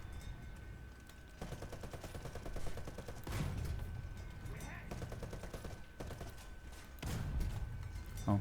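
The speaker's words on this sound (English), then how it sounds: "we just needed like 8 shots to get him, not counting the machine gun" British light tank cannon and machine gun firing in War Thunder, sounding as repeated rapid bursts of gunfire separated by short pauses, moderately loud, with some mechanical clatter between volleys.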